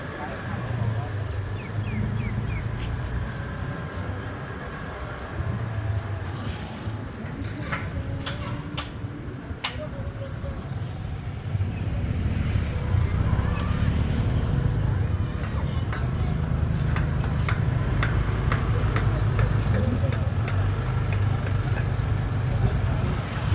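Motorcycle taxi riding on Koh Larn island, a steady engine drone with road and wind noise throughout, building louder in the second half, with someone talking over it.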